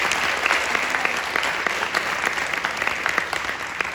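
Theatre audience applauding the cast of the play "Tamaam Hua" after a performance, with a dense, sustained round of clapping at full strength throughout and some sharper individual claps near the front.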